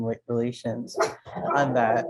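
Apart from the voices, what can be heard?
dogs barking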